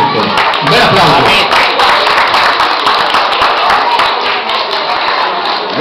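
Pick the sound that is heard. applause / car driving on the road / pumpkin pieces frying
applause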